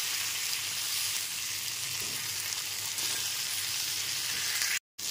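Eggplant pieces fry with turmeric powder in hot oil in a pan over a high gas flame, giving a steady, loud crackling sizzle that cuts out briefly near the end.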